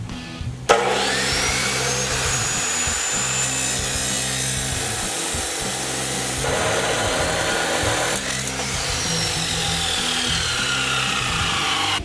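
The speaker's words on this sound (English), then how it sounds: "We have the axle and the chop saw now, so let's cut the one end off." A chop saw spins up then grinds steadily through a steel axle with a harsh, scraping whine, loud and close, sustained for several seconds.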